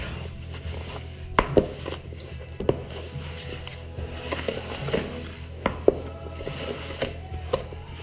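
Butter and sugar for a Jamaican fruit cake are worked together in a bowl, making soft, uneven scraping and rubbing with a few sharper knocks of the utensil against the bowl, close by, with no talking.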